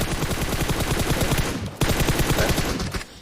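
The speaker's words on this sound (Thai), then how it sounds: "แล้วเราก็ยิง" Rapid, sustained automatic gunfire from a shooting video game, loud and dense, with a brief break midway before the bursts resume and fade at the end.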